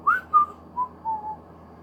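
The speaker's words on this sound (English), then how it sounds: "Whistles." A person whistles a short falling tune of four or five clear notes, close and alone without any speech.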